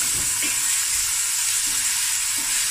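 Finely chopped onion fries in three to four tablespoons of hot oil for a Cape Malay seafood akhni, a close, loud and continuous sizzle with faint stirring thumps underneath and no speech.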